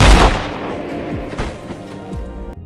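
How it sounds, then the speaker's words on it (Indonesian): A gunshot from the film Faster, a sharp loud blast at the start followed by a long rumbling decay, with fainter whooshing echoes trailing off. "Driver menembaknya si John hingga tersungkur."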